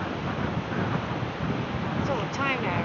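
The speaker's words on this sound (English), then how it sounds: "It's a bit windy." Steady wind blows across the microphone in a seaside town in Devon, a continuous loud rushing that masks everything, with faint distant sounds near the end.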